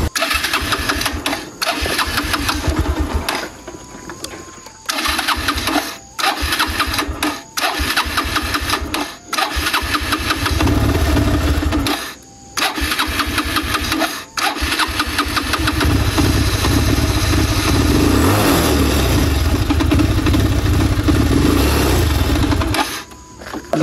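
A motorcycle engine on a village road sputters, cuts out and restarts over and over with short gaps, then settles into a sustained loud running drone, close to the listener.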